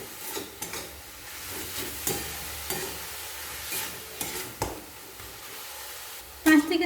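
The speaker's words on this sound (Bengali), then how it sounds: "গুড় দেওয়ার পর এভাবে নাড়াচাড়া করে নারকেলের ছৌ তৈরি করে নেব।" A coconut and jaggery filling is stirred in a pan with soft scraping strokes and a low sizzle, a few sharper knocks against the pan, and a brief clank at the end.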